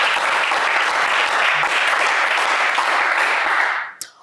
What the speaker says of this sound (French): Allez, on vous applaudit.